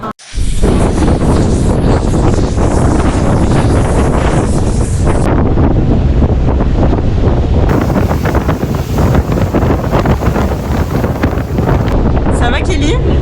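Ocean waves and wind at a beach in the Philippines. Surf roars steadily and loudly, with heavy wind buffeting the microphone throughout.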